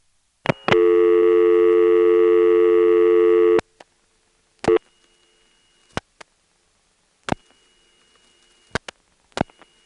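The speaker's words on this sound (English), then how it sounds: "Here's a local vacant number dialed with all 7 digits." A GTE NX2 crossbar telephone exchange answering a call dialed to a vacant local number: a loud steady multi-tone signal lasting about three seconds, then sharp isolated mechanical clicks and clunks of crossbar switching spaced across the rest.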